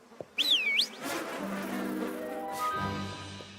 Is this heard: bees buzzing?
yes